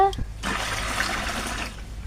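Water pours from a street pipe into a pot, a continuous rushing splash that starts abruptly after a short moment of talk, then runs steadily before easing off slightly.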